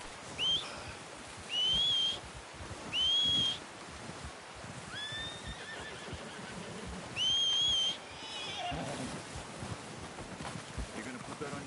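A horse in Red Dead Redemption 2 gives several high whinnying calls in short bursts, spaced across the scene over soft wind and outdoor ambience.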